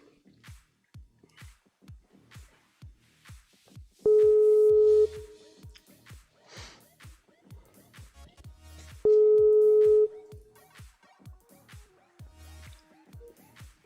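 Telephone ringback tones play during a prank call, two long steady beeps about five seconds apart over a quiet line with regular faint ticking clicks.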